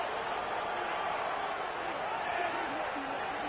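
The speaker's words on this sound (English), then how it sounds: "Listen to the crowd, thinking they got a chance." A football stadium crowd at a college rivalry game in Tallahassee makes a dense, continuous roar of many voices. It holds at a constant level throughout, with no single voice standing out.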